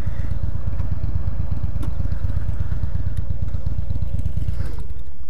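A motorcycle engine idles steadily at close range after the rider pulls over on a road trip, a low rhythmic chugging throughout with no talking.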